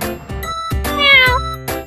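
A cat meows several times in quick succession, close and clear, with rising, whiny tones and no other voices.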